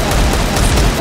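A quick burst of rapid gunfire in a first-person shooter game, loud and close, several shots packed into about a second.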